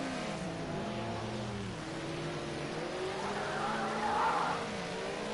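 A Ford Sierra race car loses grip on track, its engine droning steadily while tyres scrub and squeal briefly toward the end.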